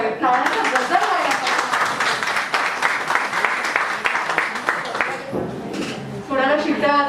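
Loud, dense audience clapping fills a women's breast cancer awareness gathering, sustained for several seconds before thinning briefly and swelling again near the end.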